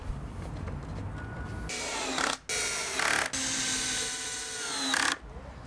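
Power drill driving screws into a wooden fence post while building a privacy screen fence, several loud whirring bursts close by with brief pauses between them.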